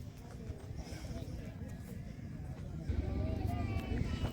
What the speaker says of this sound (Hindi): बहुत ही अच्छा घोड़ा है, पचकलन है, कच्छ की बेस्ट नस्ल का घोड़ा है